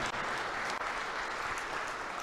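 Audience applause at a truck-dealer championship finals event, a dense, steady wash of many hands clapping together, close and loud throughout with no voices.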